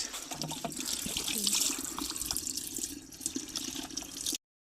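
Water pours steadily from a tap onto vessels being rinsed at a rural mud house at night, a continuous splashing rush that cuts off abruptly, with faint background voices.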